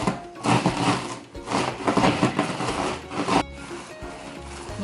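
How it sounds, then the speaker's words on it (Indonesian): Chocolate-ball ingredients are rolled and crushed to a fine crumb, a steady grinding, rubbing scrape in repeated strokes, close and fairly loud, with a brief pause near the end. "Kita gilas sampai halus ya."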